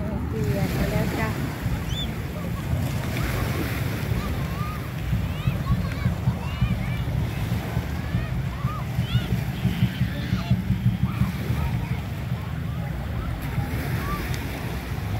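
Surf washes continuously onto a beach at Pattaya, a broad hiss and roll of waves mixed with gusty wind on the microphone, with voices faintly present throughout.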